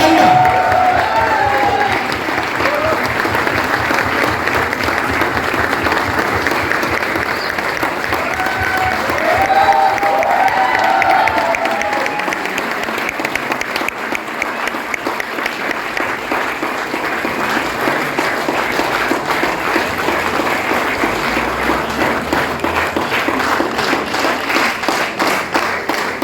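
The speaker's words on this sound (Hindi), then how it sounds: "जय तालियां।" Audience at a business seminar stage event applauding a guest being honoured, long sustained clapping that settles into a rhythmic, even beat, with some cheering and voices early on.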